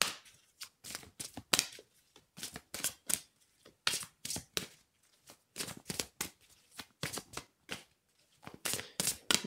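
Oracle cards shuffled by hand in a quiet room, a fast run of crisp papery riffles and slaps coming in short bursts with brief pauses between, close and clear with no talking.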